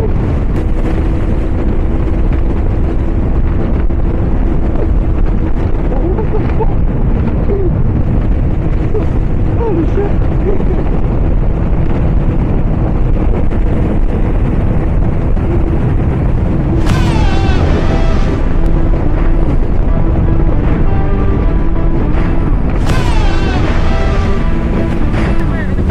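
Speedboat with a tuned Mercury 400R outboard racing at high speed on a lake and bay: continuous loud roaring rush of engine and buffeting wind noise throughout, with voices mixed in.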